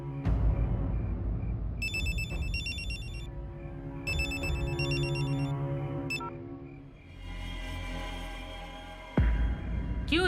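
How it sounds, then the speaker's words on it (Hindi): A telephone rings in repeated electronic bursts, loud and close, with a steady tonal hum running beneath and a sharp thud near the end. "क्यों री, किसका फोन है?"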